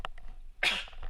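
A single close, sharp sneeze bursts out after a brief pause, loud and alone, with faint room sound around it.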